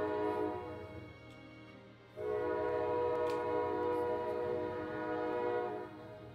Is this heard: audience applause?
no